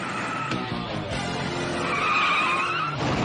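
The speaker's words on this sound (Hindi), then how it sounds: "कार रुक गई है।" A cartoon car brakes hard to a sudden stop during a driving lesson, with loud sustained tire skidding and squealing over engine noise, rising toward the end, no talk.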